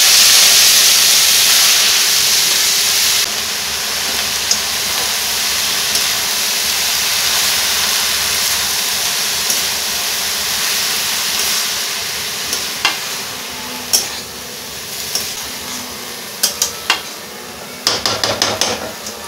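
Fenugreek greens hit hot tempering oil with slit green chillies, giving a loud burst of hissing sizzle that settles into a steady fry, with a few utensil knocks and stirring clatter near the end.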